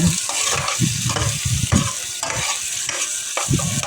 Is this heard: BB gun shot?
no